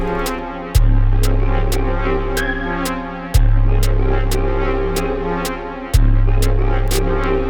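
A deep synth bass note swells three times, each hit sustaining and slowly decaying, with a steady clicking pulse and a washed, reverberant tail above it.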